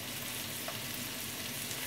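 Two tablespoons of oil heating in a pan for fish curry gravy give a steady, even sizzle and hiss, close and moderately loud, with no one talking.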